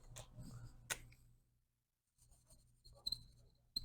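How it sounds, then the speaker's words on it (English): Chalk or marker writing on a board in a chemistry lesson: short scratchy strokes, a pause of near silence, then more quick strokes and taps, close and clear with no talking. "let's write that down."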